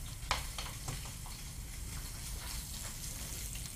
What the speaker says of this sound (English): I like to sear the tuna all the way around.